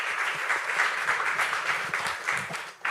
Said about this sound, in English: It deserves some applauding